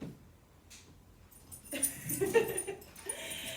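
A dog whimpers and yips softly in a home setting, a brief run of thin whines and small vocal sounds rising near the end of the moment.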